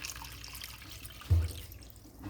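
Two cups of water pour into a bean sprout machine, a close, steady trickling with a short heavier splash partway through before settling back to a soft flow.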